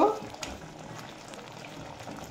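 Potol curry in coconut milk bubbles steadily in a pan, a soft close simmer running through a short stretch with a faint voice in the background.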